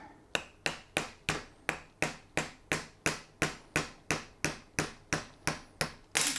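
A hammer taps a drill bit down in a steady, even rhythm, about sixteen sharp ringing metal strikes in a row, close by and loud, with no talking.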